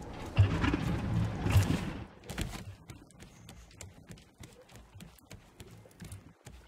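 Goats scamper off in the survival game Raft, their hooves clattering in quick irregular taps, loud at first and then fading into lighter, scattered steps.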